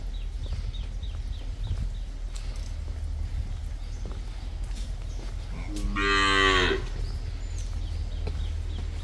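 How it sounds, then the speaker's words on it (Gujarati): A dairy cow gives one loud, drawn-out moo in a cow shelter (gaushala), heard over steady low background noise and faint farmyard sounds. "આ દૂધ આપતી ગાયો છે મિત્રો,"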